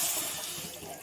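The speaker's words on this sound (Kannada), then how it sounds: "ನೋಡಿ, ನೀರು ಹಾಕ್ತಾಯಿದ್ದೀನಿ" Water is poured into a pan while making ragi vegetable soup, a brief steady rushing splash heard up close with no talk.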